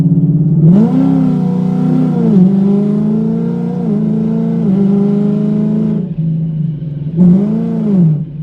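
A naturally aspirated 2018-2019 Ford Mustang with a torque converter revs hard under acceleration, its loud, close engine note climbing and dropping through repeated pulls and shifts, with a brief lull before one last rising surge.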